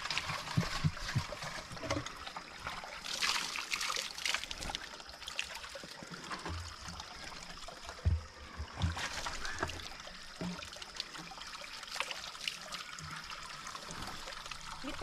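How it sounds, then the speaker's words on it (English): Water trickles and splashes while a jerry can for drinking water is cleaned outdoors in an African village, with irregular dribbles, knocks and handling noises close by over a steady background hiss. "So we clean the jerry can."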